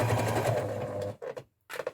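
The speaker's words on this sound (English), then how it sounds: "obviously a sewing machine, you know, will only be able to handle so much" A sewing machine stitches a rope rug with a fast, steady mechanical whir that runs for about a second, then stops and starts in brief bursts, loud and close, with no one speaking.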